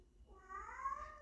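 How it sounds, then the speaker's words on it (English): A house cat gives a single short, faint meow in the background, a brief rising-and-falling cry in an otherwise quiet room. "Sorry if you hear my cat in the background"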